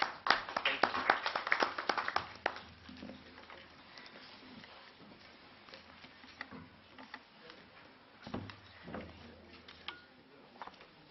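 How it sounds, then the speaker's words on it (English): Conference audience in a hall at an international jurists' meeting breaking into a round of applause, a loud burst of clapping at the start that thins into scattered claps and faint room noise, with a couple of later isolated claps. "I think a round of applause is due."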